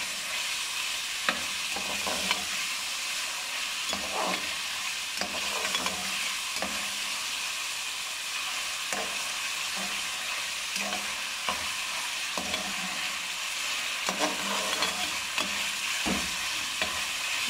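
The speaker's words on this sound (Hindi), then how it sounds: "भून लेंगे थोड़ा सा।" Chicken pieces are stir-fried in a pan for desi-style noodles, a continuous bright sizzle with frequent spatula scrapes and knocks against the metal, close up and steady throughout, without voices.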